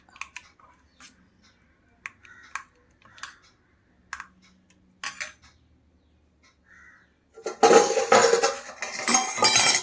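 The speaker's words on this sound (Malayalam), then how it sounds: "ഒന്നും കൂടി നമുക്ക് അടിക്കാം" Unniyappam batter is beaten in a bowl: a few sparse clicks and taps, then a loud, dense stretch of continuous scraping and clattering over the final two seconds.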